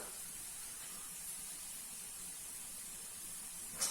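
A faint, steady sizzling hiss from onions frying in a pan, continuous and even throughout.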